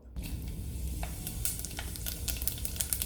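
Fenugreek and fennel seeds splutter in plenty of hot sesame oil, a steady close sizzle with sharp popping crackles scattered throughout, heard alone.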